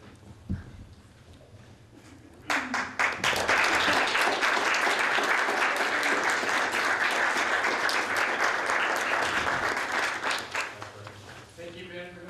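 A room full of people at a student senate general assembly breaks into loud, sustained applause lasting several seconds before tapering off, with a few faint voices before it starts.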